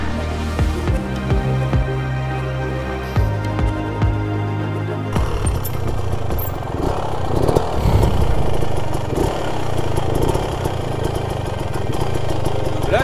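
An off-road motorcycle engine idles and then revs up with clutch use, the motor rising and rattling loudly close by with uneven throttle bursts and clatter on an outdoor off-road ride.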